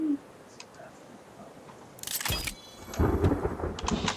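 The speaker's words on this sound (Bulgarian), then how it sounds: "Гърми." Rumbling thunder in the survival video game The Forest rolls in mid-clip with a sharp crack and lingering roar, continuing as a broad noisy wash of storm sound.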